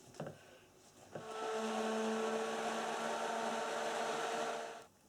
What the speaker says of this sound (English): using the stick blender to bring it to a light to medium trace